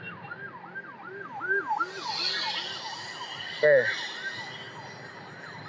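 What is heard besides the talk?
ambulance siren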